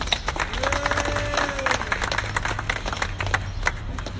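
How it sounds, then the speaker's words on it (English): An audience at a Springfield ceremony declaring Dr. Seuss week breaks into warm applause, a dense patter of many hands clapping continuously, with a faint voice briefly audible beneath it. "one more round of applause for Kay"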